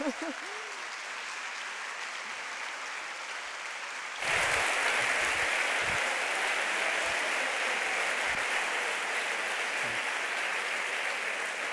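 Applause from a conference audience at an emotional intelligence congress greets a newly introduced speaker. It starts suddenly partway through, then stays as a loud, dense, steady wash of many hands clapping with no voices over it.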